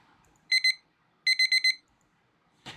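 An electronic phone ring chirps in two short bursts, first a double trill then a longer four-pulse trill, bright and clear against near silence.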